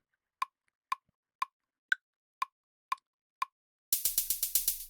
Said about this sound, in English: now we're set up here to capture a take of that hi-hat